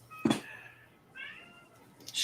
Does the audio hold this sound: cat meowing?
yes